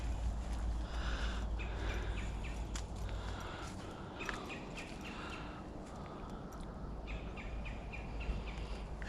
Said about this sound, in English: I hear the birds, but I don't see them.